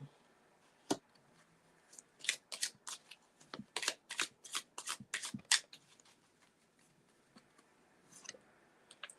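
Tarot cards being shuffled by hand during a reading; a burst of quick riffling snaps and flicks, close and crisp, clustered in the middle and trailing into sparse taps, with no voices.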